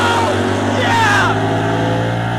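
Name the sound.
Camaro drag car engine on the rev limiter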